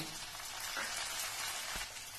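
Chopped tomatoes sizzle in a hot pan for a chhole dish, a dense, steady crackling hiss with a few soft clicks and no talking.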